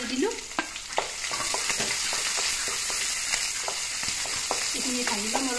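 Chopped onions and green chillies fry in hot oil with whole cumin, a loud steady sizzle with stirring clicks throughout and a brief voice at the start and end.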